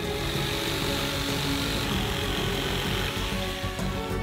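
Steady, continuous buzzing of a jigsaw cutting through wood, loud and close, running unbroken throughout.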